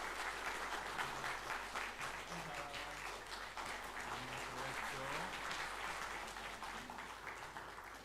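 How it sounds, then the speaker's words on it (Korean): A church congregation applauds during a Sunday worship service as families who received infant baptism stand at the front, sustained moderately quiet clapping throughout, fading slightly at the end, with faint murmuring voices underneath. "우리 성도님들에게 인사할 때 큰 박수"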